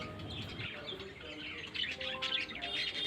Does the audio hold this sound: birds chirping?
yes